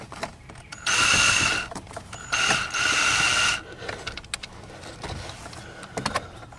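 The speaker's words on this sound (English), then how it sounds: "I got one out with a screw gun." A screw gun whirring in two loud bursts of about a second each while backing a screw out of a Dodge Caravan instrument cluster, followed by faint clicks and handling noises, close and without talk.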